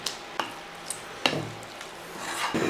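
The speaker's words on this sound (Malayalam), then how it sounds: "അല്പം മല്ലിയില ചേർത്ത് ഒന്ന് ഇളക്കിയിട്ട്" Okra curry stirred in a pan after coriander leaves go in, a few sharp scrapes and clacks of a spoon against the pan over a faint sizzle, close and brief with no talk.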